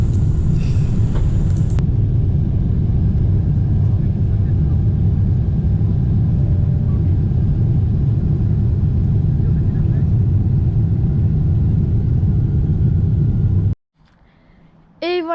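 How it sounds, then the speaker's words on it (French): Airliner taking off from a US airport, its engine roar a loud, steady broadband rumble as it accelerates down the runway, cutting off abruptly near the end. "on avait une caméra où on pouvait voir l'avion décoller"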